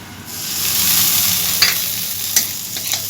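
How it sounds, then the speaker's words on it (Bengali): Masala of cumin powder, coriander powder, turmeric and tomato frying in a pan for puja-style muri ghonto, a loud steady sizzle with a few sharp spoon scrapes against the pan. "এরপর এই মশলাটা আবারও আমি ভালো করে ভেজে নেবো"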